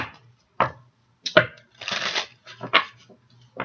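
Spiritual oracle cards are shuffled close up in several quick riffling bursts separated by short pauses.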